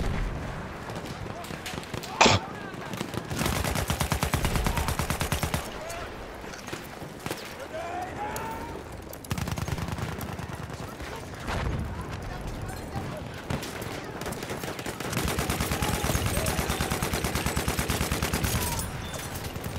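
Battlefield 1 multiplayer game combat: repeated bursts of gunfire and heavy explosions under a player's ongoing talk, dense and fairly loud throughout.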